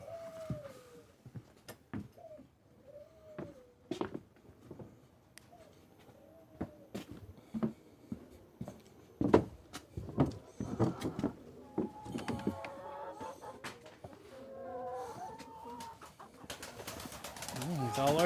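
Pigeons in a sanctuary loft coo in repeated rising and falling calls, close and clear at first, then joined by wing flutters, scuffles and a voice as the activity builds.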